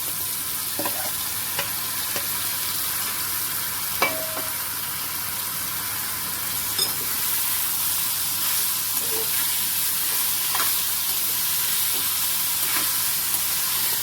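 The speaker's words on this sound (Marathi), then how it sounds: "आता आपण ही जी गवार आहे ती याच्यात घालून घ्यायची आहे" Cluster beans being stirred into sautéed onion in a pan give a steady, moderate sizzle and hiss throughout, with occasional scraping clicks from the spoon and no talking.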